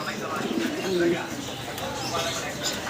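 Potash running-pair pigeons coo softly in a few low, throaty notes, fairly faint against a noisy background while a person talks over them.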